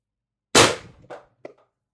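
A Pistelle X-68 Punisher blaster built with a Huben power stock and an ADN X18 drum mag fires one shot, a sharp, loud crack that decays quickly, followed by two small clicks and then silence.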